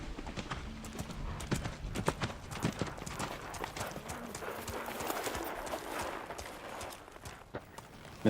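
Horse hooves clip-clop steadily in a western film, a repeated clatter of several hoofbeats at a walking pace, fairly close and moderately loud over a faint outdoor background.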